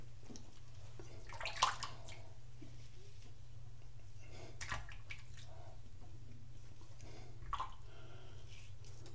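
Water runs as a face is rinsed after a shave with a Merkur 34c razor. A faint, steady wash of running water sits over a low hum, with a few soft splashes.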